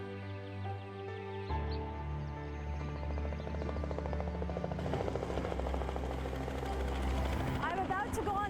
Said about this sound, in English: I'm about to go on a helicopter over the Victoria Falls with the Zambezi Helicopter Company.